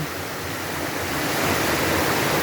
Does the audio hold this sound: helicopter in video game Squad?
no